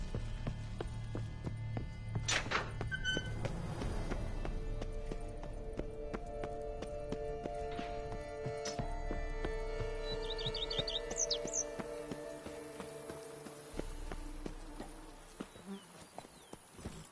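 Horse hooves clip-clop steadily in the Witcher 3: Blood and Wine game, a continuous rhythmic trot at moderate distance with faint buzzing insects and ambient music underneath.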